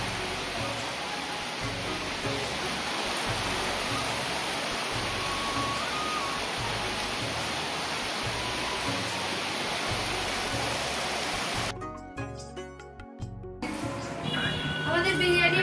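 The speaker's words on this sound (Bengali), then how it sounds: "সঙ্গে সঙ্গে বৃষ্টিও শুরু হয়ে গেল।" Rain sets in under a darkening sky, a dense, continuous broadband hiss of falling water that holds steady and fairly loud, briefly dropping out near the end.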